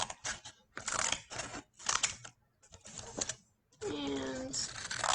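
Scissors snip through paper or card while shaping the side part of a homemade craft stethoscope, coming in several short bursts of close, crisp cutting separated by pauses.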